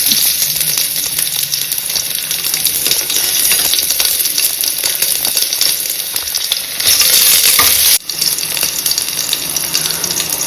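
Curry leaves and onion with mustard seeds spitting in hot oil for a multigrain sprout sambar, a loud dense crackling sizzle filling the whole stretch, close and steady with one brief dip.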